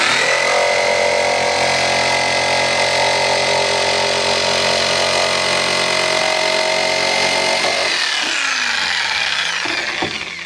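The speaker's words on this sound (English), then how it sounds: "I'm just going to get my jigsaw. And these are just half-inch holes that I drilled. I'm just going to cut this barrel right around this top ring." A jigsaw saws through a plastic rain barrel around its top ring, a loud, steady buzzing cut that runs without a break and then winds down near the end, with no voices.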